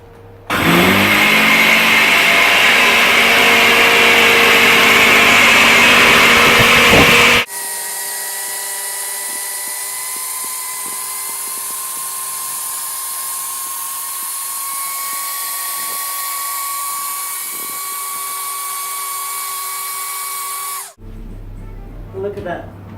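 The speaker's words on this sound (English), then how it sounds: "This is very basic, very cheap blender, nothing special" A cheap basic blender grinds egg shells into powder loudly at high pitch, then drops to a steadier, lower whirring hum for a long stretch before stopping abruptly.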